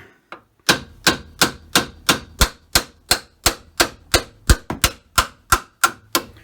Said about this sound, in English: we'll beat on that control arm and get it pulled out of there